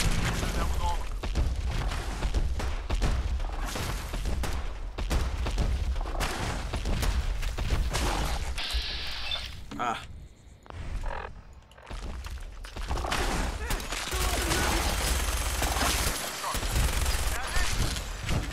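Fallout 4 combat: rapid, dense gunfire and booming blasts in repeated volleys, loud and close, with a brief lull partway through before the shooting resumes, and voices talking in between.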